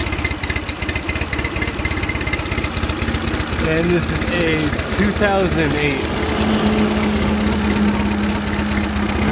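A 2008 Tohatsu 9.8 hp four-stroke outboard motor idles with a steady, throbbing chug under a voice, and a faint whistle-like tone rises near the end.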